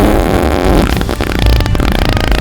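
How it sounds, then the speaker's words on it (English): An AI companion gadget plays a synthetic fart on command, a loud, buzzy, sputtering blast lasting a couple of seconds that breaks into rapid rattling pulses toward the end. "it can fart on command"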